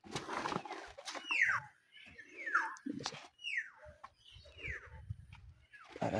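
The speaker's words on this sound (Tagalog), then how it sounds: "Ibon." A bird gives a series of short, sharp, descending chirps, about five calls spaced roughly a second apart, close by with soft rustling and low background noise between them.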